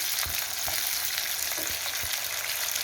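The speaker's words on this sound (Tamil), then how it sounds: "கூடவே ஒரு கைப்பிடி கருவேப்பிலை சேர்த்து நல்லா வதக்கிக்கோங்க." Shallots and a handful of curry leaves sautéing in a pan for Chettinad vatha kuzhambu, a dense, even sizzle throughout, close and steady, with a few soft stirring knocks and no voices.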